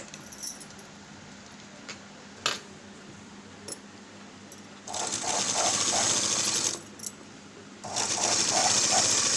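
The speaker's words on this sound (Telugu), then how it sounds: "స్టిచ్ చేసుకోవాలి." Sewing machine stitching a pot neck blouse, two bursts of fast, steady mechanical whirring and clatter up close, with a few sharp clicks and taps in the quieter moments before and between.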